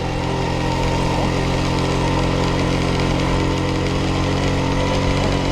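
A 1991 HD3 motorcycle engine idling after warm-up, a steady, loud, close drone with an even mechanical rumble and no voices.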